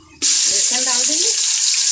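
Garlic tipped into onions frying in hot oil, setting off a sudden loud sizzle that holds steady and close, with a brief clatter of stirring just after it starts.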